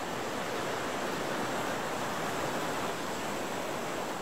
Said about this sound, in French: on a l'impression de survoler l'eau qui gronde sous nos pieds